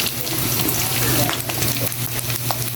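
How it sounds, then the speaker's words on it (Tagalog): Pork belly seasoned with salt fries in its own rendered fat, giving a loud, close, crackling sizzle with bursts of spatter and some stirring noise. "tutustay na lang natin to dito guys sa sarili niya ng mantika"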